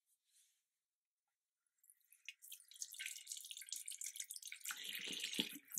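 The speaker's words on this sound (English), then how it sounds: "Let's turn that tap off" Tap water runs into a bathroom sink during a makeup removal test, starting after a short silence as a steady splashing hiss that grows louder and fuller toward the end, with no talking.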